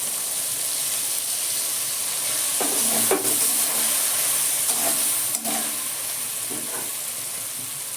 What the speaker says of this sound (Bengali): এবার মশলাগুলো ঢেলে দিলাম।